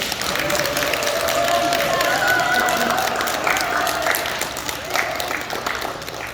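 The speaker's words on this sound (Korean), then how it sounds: "이천희 회장님께 큰 감사의 박수 부탁드립니다" Audience applause at a year-end volunteer association gathering, clapping for the association president: steady, fairly loud clapping from a crowd, with some voices and murmuring mixed in, tapering slightly toward the end.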